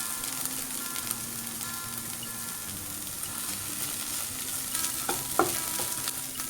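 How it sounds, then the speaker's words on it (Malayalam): Sliced okra sizzles steadily in a pan on low flame, a soft continuous fry with a few light scrapes of a spoon stirring near the end. "വെണ്ടയ്ക്ക ഇവിടെ ഫ്രൈ ആയിട്ടുണ്ട്."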